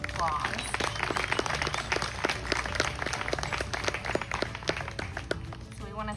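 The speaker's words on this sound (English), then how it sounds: "So let's give her a round of applause." A small audience at a museum radio show event applauds, with distinct individual claps in a loose, moderately close rhythm, while voices murmur underneath throughout.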